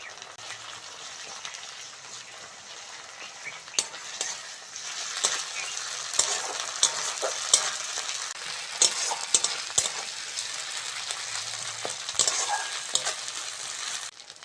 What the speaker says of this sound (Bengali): পেঁয়াজটা ভালো করে ভেজে নিয়েছি এবার আদা রসুন বাটাটা দিয়ে দেবো